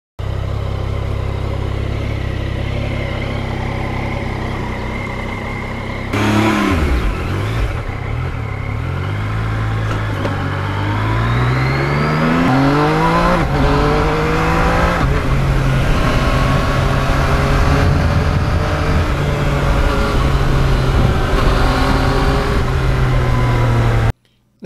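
A Yamaha MT-09 motorcycle engine revs hard on an open road, rising in pitch through the gears with shifts and climbing whines over loud steady wind rush, close and continuous.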